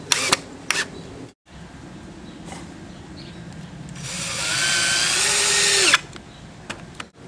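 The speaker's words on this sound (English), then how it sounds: "I'm just going to attach it with 3 2-inch drywall screws." A power drill drives 2-inch drywall screws into wood, with a rising motor whine that ends abruptly. Brief clicks and knocks come before and after.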